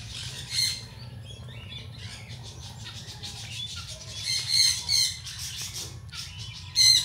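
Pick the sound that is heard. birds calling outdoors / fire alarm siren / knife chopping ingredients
birds calling outdoors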